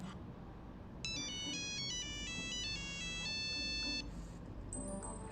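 A phone ringtone plays a bright, repeating electronic melody for a few seconds, then stops, followed by a short beep.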